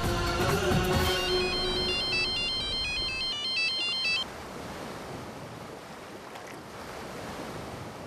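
An electronic ringtone plays a repeating melodic pattern over loud wind or surf noise, then cuts off, leaving just the rushing background.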